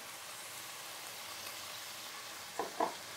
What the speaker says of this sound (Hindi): अदरक लहसुन के साथ फ्राई करेंगे जब तक इसका कलर चेंज ना हो जाए।